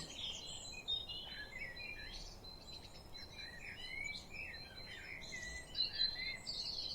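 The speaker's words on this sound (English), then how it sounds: "listen to the sound of the birds, the insects, and the wind rustling" Quiet outdoor ambience with scattered bird chirps and twitters over a soft bed of insect buzz and faint wind.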